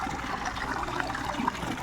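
Water flowing in a continuous steady rush with small gurgles and trickles, close and moderately loud, with no voices over it.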